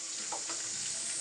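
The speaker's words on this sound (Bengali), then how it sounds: "এই যে দেখো রসুন হালকা ভাজা দিচ্ছি" Garlic and chopped ginger frying in oil for an olive pickle, giving a steady close sizzle with a few soft stirring scrapes throughout.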